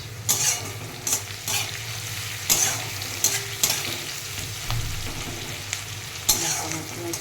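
Food frying in a pan before mutton is added, a continuous moderate sizzle broken by periodic sharp stirring scrapes, no voices.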